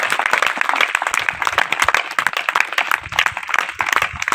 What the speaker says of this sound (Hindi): जोरदार ताली सर।